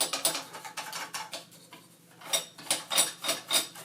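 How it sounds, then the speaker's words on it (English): A small brush scrubs lint from the bobbin section of a sewing machine, giving quick scratchy brushing strokes in an irregular rhythm, close and fairly soft, with a short pause in the middle. "With the brush, you're just going to clean out your bobbin section here."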